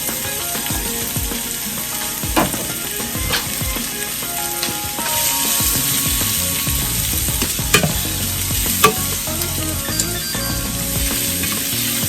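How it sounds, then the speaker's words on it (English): Diced onion and mushroom sizzle and fry steadily in hot oil in a pan, a continuous close crackle with occasional louder pops and stirring sounds, no voices. "we're going to go ahead and take the onion, the diced onion, and mushroom, and add them right to that hot oil"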